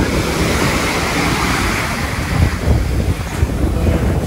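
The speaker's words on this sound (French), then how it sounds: "Ah, la vague n'arrive pas. Si, elle arrive." Sea waves wash onto a beach in a continuous broadband roar, with a steady wash of surf and some wind buffeting the microphone, swelling slightly toward the end with no talking.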